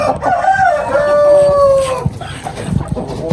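Desi chickens and a rooster kept in a rooftop poultry setup, a loud drawn-out crowing call sweeping through its notes near at hand, followed by scattered clucks and rustling.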